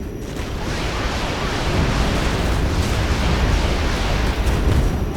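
Hornet rocket and bomb strikes exploding in the video game Regiments, a dense, continuous roar of blasts and rumbling booms building and sustained, loud and close.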